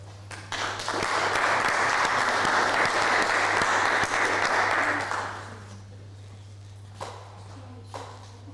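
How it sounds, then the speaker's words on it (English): A graduation ceremony crowd gives a final round of applause, dense steady clapping for about five seconds that then fades out, followed by a couple of faint knocks, with a constant low hum underneath. "Kom ons gee weer 'n laaste hande klap."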